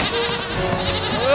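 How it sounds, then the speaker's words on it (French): A goat bleats in a wavering, sustained cry, loud and close over a dense backdrop of game music and effects, with no talk. "Fonce, Babette, ma chèvre unijambiste!"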